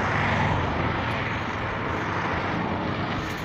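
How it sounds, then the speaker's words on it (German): A helicopter passes overhead above a construction site, a loud, steady broadband rotor and engine roar that holds for the whole stretch without a break. "über mir fliegt gerade ein Hubschrauber"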